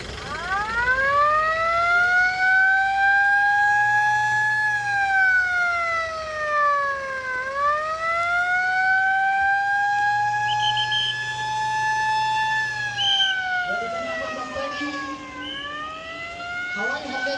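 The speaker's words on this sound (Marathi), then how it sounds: "सूचना मिळण्यासाठी हा पब्लिकला अवेअर करण्यासाठी सायरन वाजला जातो" A civil defense siren sounds during an emergency mock drill, its loud wailing tone rising, holding, dipping and rising again in long sweeping cycles, close and dominant, with faint background voices.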